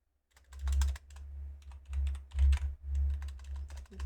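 Rapid keystrokes on a computer keyboard, clicking in short uneven bursts with brief pauses, close and clear with no talking.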